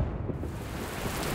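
Steady heavy rain pours down at a drag racing event, a dense, continuous hiss with low rumbling underneath.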